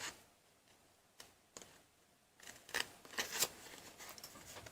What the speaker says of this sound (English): it's just as easy just to use my scissors here